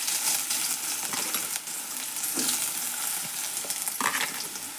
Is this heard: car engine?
no